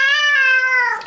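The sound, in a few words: cat meowing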